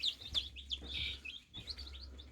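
Baby chicks in a brooder under a drop light give high, thin chirps and peeps, several overlapping calls scattered throughout against a steady low hum, with no talking.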